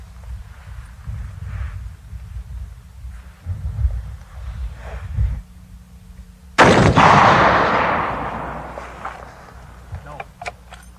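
A single loud .50 caliber rifle shot cracks out after several seconds of low background rumble and quiet voices, its blast ringing and decaying over a few seconds.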